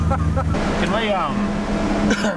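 A V8 GT47 turbo Toyota Supra engine idles steadily beneath close speech, with a low droning hum and a whining fan-like tone running throughout.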